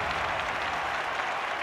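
Crowd applause in a London 2012 Olympics video game, a steady broadband clapping roar that stays loud and continuous throughout, with no voices standing out.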